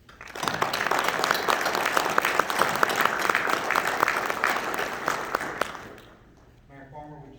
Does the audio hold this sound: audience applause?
yes